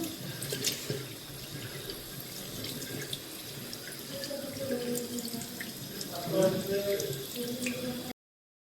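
Tap water running into a sink while someone washes their face, a steady splashing flow with small drips and gurgles, close by, with faint voices in the background.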